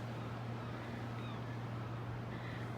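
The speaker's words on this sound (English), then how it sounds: "I hear a boat, I don't see a boat." A steady low engine drone hums from a distant boat off the coast near Deadmans Bay, East Coast Trail, constant and unbroken beneath faint wind and water noise, with no voices.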